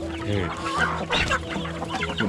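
Chickens cluck steadily at close range on a small rural Thai farm that also keeps goats, fish and birds, with overlapping calls and no talking.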